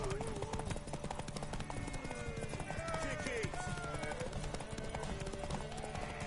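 Horse hooves clip-clop in the video game The Witcher 3, a steady trotting patter mixed under game music and a character's speech throughout.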